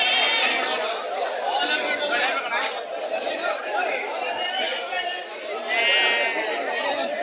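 Goats at a weekly kid market in Tumkur call out amid a busy, continuous crowd hum, their bleats blending into the steady outdoor chatter throughout.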